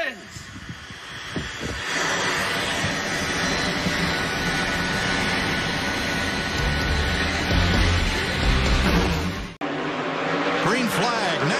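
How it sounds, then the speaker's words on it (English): Stock car engines at Darlington firing up and roaring together, a dense loud continuous rumble that starts after a moment and holds steady, with a brief dropout near the end. "Drivers, start your engines."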